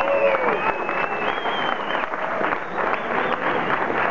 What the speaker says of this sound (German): da gibt es mal einen riesen Applaus für die Jungs